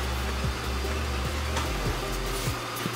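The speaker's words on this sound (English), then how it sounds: "I probably would not actually be doing this very scenario where I'm working while the vacuum is going" A 360 S9 robot vacuum cleaner runs indoors with a steady, loud motor whine and airy rush throughout, plus faint brief tonal sweeps as it moves.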